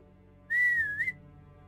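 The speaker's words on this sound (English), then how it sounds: "Let's whistle first." A character in the Gothic Archolos video game whistles one clear, sustained note lasting about half a second, with a slight wavering rise and fall, loud and isolated over a quiet game background.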